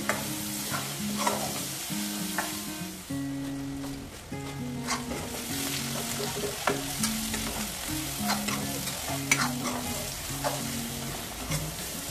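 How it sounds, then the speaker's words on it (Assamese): Garlic, onion and ginger fry in a pan with a steady, close sizzle, punctuated by scraping stirs, while a melodic tone runs faintly underneath. "নহৰু পিঁয়াজ আদা এইখিনি ভাল ৰঙাকৈ ভাজিম।"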